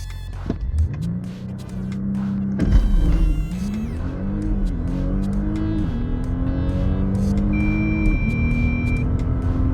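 An Audi SQ5 SUV's engine roars as it accelerates hard from a standstill, pitch climbing through several gear shifts, loud and close with a brief thump early on.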